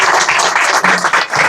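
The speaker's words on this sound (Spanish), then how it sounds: "el último aplauso no es para nosotros, sino para ustedes por haber confiado" An audience gives a loud, dense round of applause at the close of a show, many hands clapping steadily throughout with no voices over it.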